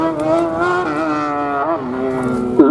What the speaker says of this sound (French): on ne peut pas dire que le moteur ne sonne pas